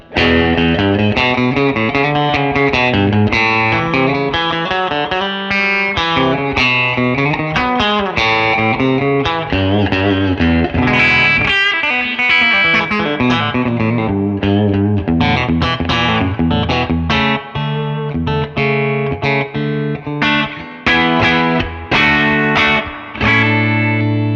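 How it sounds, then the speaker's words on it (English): Fender American Professional Classic electric guitar in the middle pickup position, playing chords and melodic lines with a washy reverb tail, continuous and fairly loud with no voices. "Let's just give it a little bit of reverb as well."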